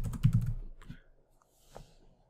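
A quick burst of typing on a computer keyboard, several rapid key clicks up front, then a few sparse, softer taps with quiet gaps between them.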